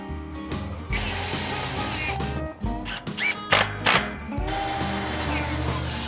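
A power drill bores into wood while a DIY fence is built from 2x2 lumber, its whine running steadily at close range, then breaking into short, choppy bursts before settling back into a continuous drone.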